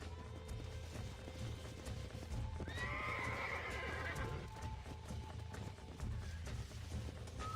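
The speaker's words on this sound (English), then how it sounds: "You get back on your own horse." A horse in the Red Dead Redemption video game whinnies loudly mid-clip over a background of hooves clip-clopping and low ambient rumble, with a faint tone at the end.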